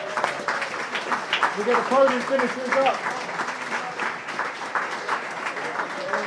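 Audience applause for the top three team winners at a live interactive motorsport show event, broad steady clapping running throughout beneath a voice speaking over it.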